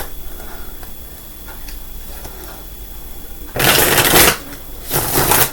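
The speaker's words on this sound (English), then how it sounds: "I am now shuffling the deck of the Rider-Waite original deck." Two quick, crisp riffling bursts of a Rider-Waite tarot deck being shuffled, following a few seconds of quiet room tone.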